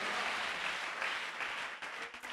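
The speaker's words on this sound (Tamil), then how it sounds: "என்ன விசுவாச கைத்தட்டு." Church congregation clapping their hands, a steady dense patter of applause filling the room throughout, with no voices standing out above it.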